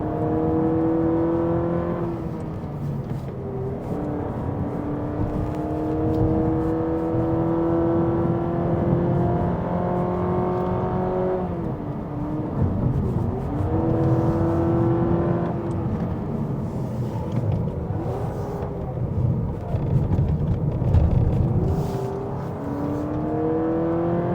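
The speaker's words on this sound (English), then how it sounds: "So there's a kind of a simulated gear change, but actually it's just one gear" A Honda Civic RS e:HEV hybrid climbs a hill road under hard acceleration, its engine tone rising steadily, dropping as if shifting gear, then climbing again in repeated sweeps, loud and close from inside the cabin.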